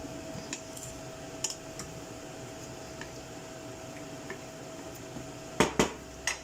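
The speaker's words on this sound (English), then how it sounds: "give it a good mix there" A pork, carrot and pea stew is stirred in a pot, with sparse faint scrapes and a few sharper metallic clinks near the end over a quiet kitchen hum.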